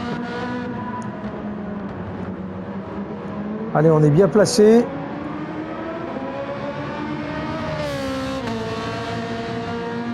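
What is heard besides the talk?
race car engines in a Daytona racing video game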